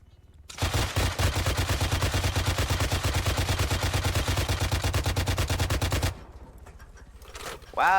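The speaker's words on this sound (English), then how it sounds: "See if I can get in this gunner and shoot at him." A vehicle-mounted machine gun in Arma 3 fires one long, rapid, loud sustained burst for about five and a half seconds, then stops, leaving quieter background noise and a brief voice near the end.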